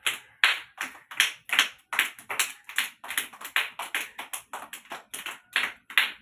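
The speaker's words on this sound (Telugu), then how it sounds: "క్లాప్స్ కొట్టండి." Young children at an Anganwadi clap together in quick, sharp bursts, a fairly even run of claps going on steadily and close by with no voices over them.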